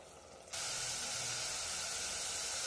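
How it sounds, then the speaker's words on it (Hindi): Masala sizzles steadily in hot oil in a pan while it is fried for aloo tamatar sabzi. The sound comes in at once as a loud, continuous hiss after a brief quiet start and holds without a break. "अब हम मसाले को ढक के भूनेंगे जिससे हमारी गैस कम खर्च हो और ये जल्दी भून जाए।"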